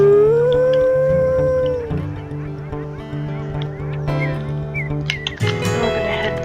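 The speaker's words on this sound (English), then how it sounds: "We're gonna howl." Wolves howl in the video game WolfQuest, a long rising and falling howl joined by other wailing voices over a low game music drone, loud and sustained.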